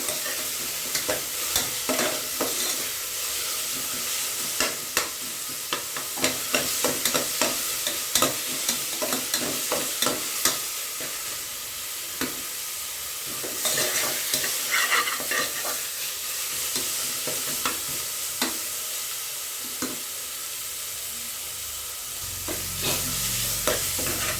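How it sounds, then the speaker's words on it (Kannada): Ginger paste fries in a pan with oil for a kushka rice dish, giving a continuous loud sizzle broken by frequent scraping and clacking from stirring. "ಒಂದು ಇಂಚ್ ಆಗುವಷ್ಟು ಶುಂಠಿನ ಪೇಸ್ಟ್ ಮಾಡ್ಕೊಂಡಿದ್ದೀನಿ ಫ್ರೈ ಆಗಬೇಕು"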